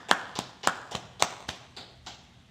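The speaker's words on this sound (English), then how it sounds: "Let's clap it up." A few audience members at a Biblical law class clap in a sparse, uneven pattern, about eight distinct claps over two and a half seconds that weaken toward the end.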